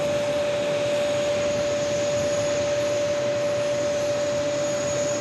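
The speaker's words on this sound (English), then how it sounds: "We do have a Copa 737 MAX 9 heading to Panama City, now rolling down 4 left" A Copa Boeing 737 MAX 9 rolling down runway 4 left at New York JFK makes a constant, even engine rush with a sustained steady whine running through it, alone and unchanging throughout.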